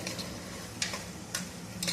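Soaked, washed everyday rice fries in a pressure cooker on a stove, giving a steady low sizzle and faint scraping with a few sharp stirring clinks, close and quiet, with no talking.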